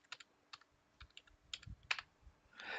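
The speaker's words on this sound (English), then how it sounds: "So I will now separately type the password here." A password is typed on a computer keyboard at a Linux server login, heard as quiet, close, separate key clicks in an uneven rhythm, with a brief denser burst at the end.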